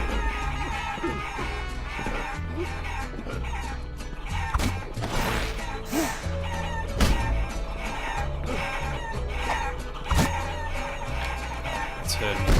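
Chickens cluck and squawk in the video game Guacamelee, short bird calls scattered over busy game music and effects throughout.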